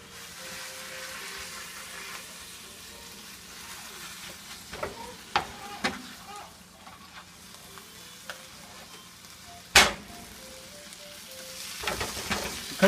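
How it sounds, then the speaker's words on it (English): Partly frozen meat sizzling as it fries in a pan alongside cooking pasta, a steady soft crackle broken by occasional clinks and scrapes of a utensil. "get over to that meat that is starting to sizzle"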